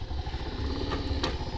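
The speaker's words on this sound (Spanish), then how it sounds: "Voy a seguir aquella moto. Ahí veo que hay una moto." Motorcycle engine running on a muddy road, a steady mid-level rumble with clattering, moderately close and continuous.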